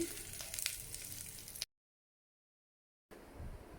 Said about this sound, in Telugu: ఈ ఆయిల్లోనే మనం వేసుకున్న టమాటోలు ఆనియన్స్ అన్నీ కాస్త వేగనివ్వండి బాగా వేగాలండి